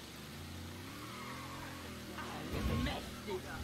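An old black Cadillac drives through a Mafia III game world, a steady low engine drone that rises briefly with a revving surge near the end, with someone talking over it.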